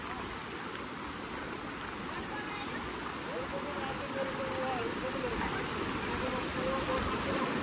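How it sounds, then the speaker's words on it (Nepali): Fast floodwater rushing along a road after heavy rain in Dharan, Nepal, a loud continuous churning torrent with a voice talking faintly underneath. "कस्तो स्पिडमा रहेछ यो पानी त"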